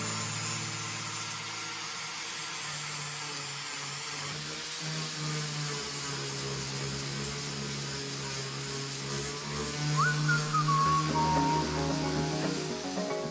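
Power grinding on the damaged hull of a Siren 17 sailboat runs as a continuous, even roar with a steady whine throughout, briefly rising near the end.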